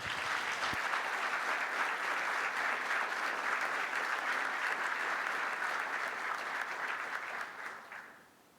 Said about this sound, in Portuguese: Uma salva de palmas para o Subversivo Neves